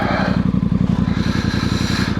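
A Voge DS625X motorcycle pulls away uphill from a standstill, its engine thrumming in a close, steady pulsing rhythm with some clatter and scraping mixed in.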